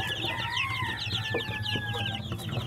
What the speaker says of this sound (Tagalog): Crossbreed to guys sa Rhode Island red at saka native chicken.